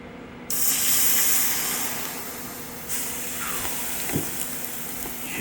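A Harbor Freight TIG welder lays the final weld on a set of trailer ramps: a steady, fairly loud broadband hiss starts abruptly and holds throughout, with a brief surge partway and a few faint ticks, and no talking.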